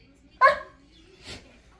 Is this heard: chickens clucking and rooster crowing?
no